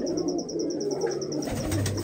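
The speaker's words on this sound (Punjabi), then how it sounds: "ਬੈਠੇ ਕਬੂਤਰ ਤੁਹਾਨੂੰ ਸਾਰੇ ਦਿਖਾ ਦਿੰਦੇ ਆ ਇਹ ਕਬੂਤਰੀਆਂ" Pigeons cooing in a village loft, a close run of soft repeated coos with a faint high chirping above, steady and unbroken with no talk.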